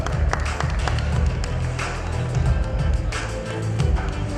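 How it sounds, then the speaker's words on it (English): An audience at an echocardiography academy fellowship ceremony claps in a sustained round of applause, dense and fairly loud, with brief louder bursts, while a voice talks over it. "Big round of applause for Bhubaneswar, Orissa."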